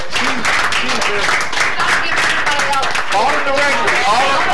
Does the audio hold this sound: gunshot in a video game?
no